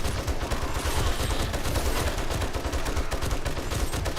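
Submachine gun fire in a horde-defense video game: dense, continuous rapid bursts of gunfire running the whole clip at steady loudness, with no talking.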